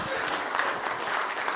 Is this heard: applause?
yes